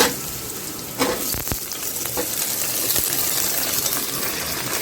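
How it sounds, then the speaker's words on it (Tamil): Tomatoes sautéing in a pan over softened onions for a spicy crab gravy, a steady close sizzle with a few sharp clinks of a spoon against the pan near the start, no voices. "இதில் நம்ம இப்போ தக்காளி போட்டுக்கலாம்."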